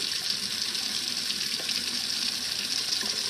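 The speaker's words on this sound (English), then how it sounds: "I always rinse this the stir fry vegetables off, and then I drain them." Kitchen tap water runs steadily to rinse stir fry vegetables before draining, a constant close hiss and splash with no break and no voices.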